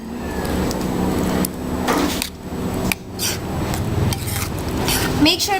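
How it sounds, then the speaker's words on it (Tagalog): A utensil scrapes and stirs food around a very hot pan in uneven strokes, close metallic rasps with brief clanks. "Mix na siya mabuti."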